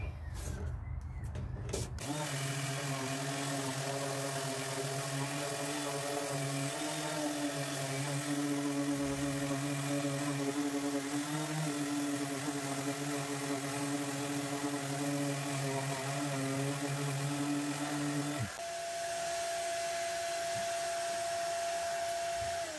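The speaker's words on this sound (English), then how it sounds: "So I'm using my Rockwell sander from Super Cheap Auto and 80 grit sandpaper, and I've got this hooked up to the Audi shop vac." A Rockwell orbital sander with 80 grit paper works over old furniture while connected to a shop vacuum. A loud, steady whining drone holds for most of the clip, then shifts to a lower, thinner tone near the end.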